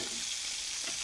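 Burger patties for friends' burgers with caramelized onions fry in a pan, giving a steady, close hiss of sizzling fat for about a second with no pauses.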